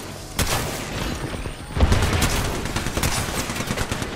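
Gunfire in the battle-royale game Apex Legends, rapid bursts of automatic shots that keep going in fast volleys, close and loud, with almost no talk over them.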